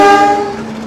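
Lodaya passenger train pulling into Kutoarjo station, its horn blaring a loud, steady harmonic blast up close that fades slightly over under a second.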